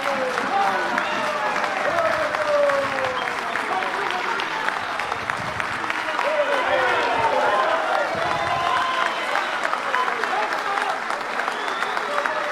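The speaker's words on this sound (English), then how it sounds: "Let's give our Minister of Finance a round of applause." Members of a national assembly give the finance minister steady applause and cheering at a national budget presentation, with talk and murmuring mixed in throughout.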